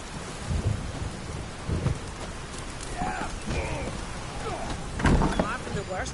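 Steady rain and rolling thunder in the game The Witcher 3, with low rumbles swelling at intervals over a constant wash of falling rain, while voices talk faintly in the background.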